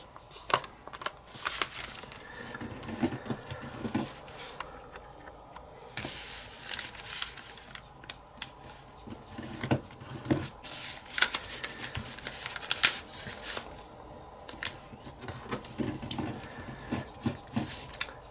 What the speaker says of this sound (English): So rotate and fold this corner to there.